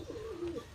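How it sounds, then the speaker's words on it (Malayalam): A single soft, low coo from a racing pigeon, a warbling murmur lasting under a second, close by with faint background hiss. "ഈ സബ്ജ ഉണ്ടില്ലേ ഇതാ കുറുകി"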